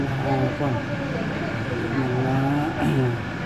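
A car drives along a road in the Philippines, its steady engine hum and road noise running throughout, with people talking over it.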